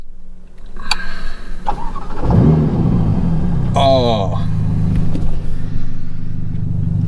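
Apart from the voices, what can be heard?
sports car engine starting and revving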